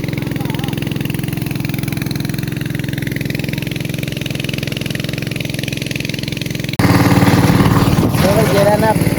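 Small generator driving a pump that lifts water out of a well, a loud steady droning engine hum running throughout, with a sudden louder, rougher burst near the end and a voice speaking over it.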